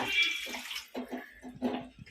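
Water poured into a pan while cooking vegetable kootu in a home kitchen, short splashing gushes in a few bursts, close and moderately loud.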